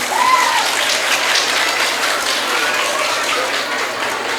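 Loud, steady applause from an audience at a Teeyan festival gathering in Manila, honouring teenagers who performed the gidha dance; the dense clapping holds evenly throughout, with a brief whistle near the start.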